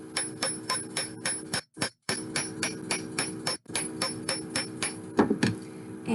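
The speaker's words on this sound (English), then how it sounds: "I'm just gonna hammer that entire area" Steady, rhythmic hammer strikes on a metal bracelet on a mandrel ring out close by, about three per second, with a couple of brief pauses between runs.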